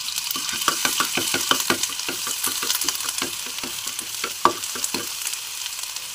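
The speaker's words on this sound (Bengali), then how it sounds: "কড়াইটা গরম হয়ে গেছে, আমি এর মধ্যে একটু পেঁয়াজ বাটা দিয়ে দিচ্ছি।" Onion paste sizzles in hot mustard oil in a wok while it is stirred, the frying hiss constant with rhythmic scraping strokes close by and no voices.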